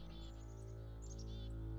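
Bird call from the video game The Beginner's Guide: a few short, high chirps over a steady, droning tonal background.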